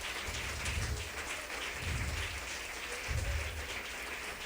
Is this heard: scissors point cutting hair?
no